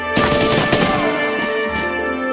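A loud volley of gunfire in the tactical video game Banner of the Maid, a dense burst of rapid shots at the start that fades into ringing echoes, with no talk.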